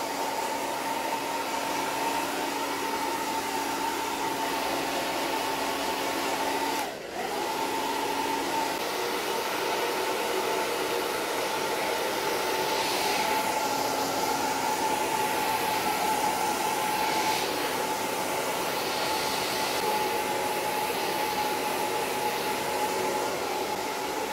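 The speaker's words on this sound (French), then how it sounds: "je vais pulser de l'air et c'est ça qui va sécher." Hair dryer on its lowest setting blowing air to dry hair after a Schwarzkopf plant-based hair colour, a steady whooshing hum that runs loud and continuous throughout with only a brief dip.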